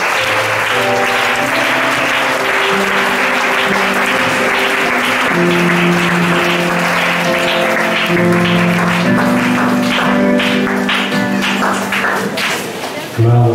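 Congregation applause and cheers welcoming the preacher at a Sunday worship service, sustained loud clapping with voices and musical tones underneath, continuing steadily before tapering near the end.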